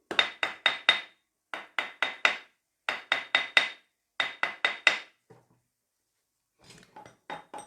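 A mallet beats a wedding ring on a jeweller's mandrel as it is turned, giving four quick bursts of sharp, close metallic taps in even rhythm, each burst followed by a pause, then lighter taps at the end.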